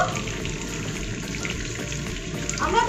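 Small shrimp kofta fritters frying in hot oil for a Bengali shrimp kofta curry, a steady close crackling sizzle running throughout with a slight swell near the end.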